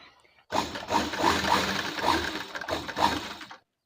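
A sewing machine stitching fabric in a short burst of about three seconds, a rapid mechanical whirring run with rhythmic ticking pulses, close and fairly loud, then stopping abruptly into silence.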